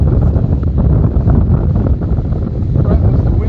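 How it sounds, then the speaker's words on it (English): Strong wind buffets the microphone during a live-covered vintage Gold Cup sailing race on water with whitecaps, a steady loud low roar lasting throughout. "the wind is picking up for sure, Steve."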